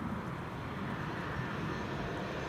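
An Embraer 195 E2 jet arriving at Amsterdam Schiphol, a steady broad engine roar heard from some distance, even and continuous with no voices.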